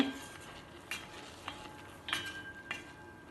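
Quiet scraping and stirring of bananas cooking in a pan, a few soft utensil clinks and scrapes spaced over a faint sizzling background.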